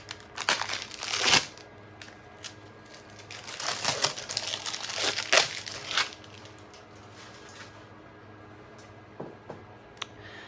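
Fiber tape packaging being cut open for a cracked lexan RC body repair, close crinkling and crunching plastic in dense bursts, then quieter with a few sharp isolated snips and rustles near the end, no talking.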